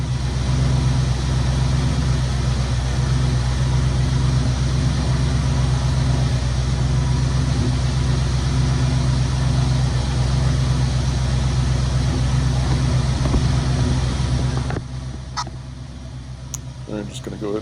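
A 1967 Ford Mustang GT Fastback idles with a steady, deep exhaust rumble held close and loud for about fifteen seconds before the level drops and a few faint clicks follow.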